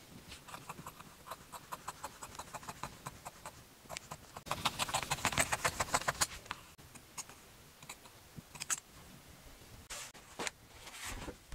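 Upholstery fabric being cut for the curved sides of a tub chair gives a string of crisp, rhythmic snipping clicks close by, with a denser rustling burst midway before the cuts turn more scattered.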